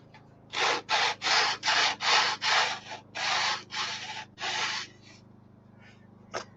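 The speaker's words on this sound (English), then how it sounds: "Love that new sander, Santa Claus." A new power sander works on wood in about nine even bursts with short pauses between them. It sounds close and fairly loud against a quiet room, and no one speaks.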